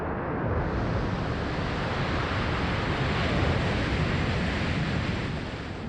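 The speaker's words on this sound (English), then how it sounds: "And the thing we give it is water." Water deluge at a SpaceX Starship launch pad, a loud, continuous broadband rush of high-pressure water that holds steady for several seconds with no talk.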